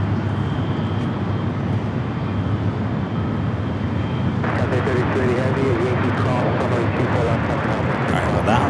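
NetJets Cessna Citation XLS corporate jet at LAX, a continuous loud engine roar with deep rumble that rises in intensity partway through, heavy and steady with wind buffeting.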